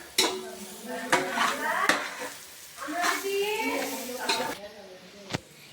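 Spices and onions being sautéed in a pan, with a spoon stirring and scraping against the metal in sharp clicks and clanks over a soft sizzle, close and moderately loud.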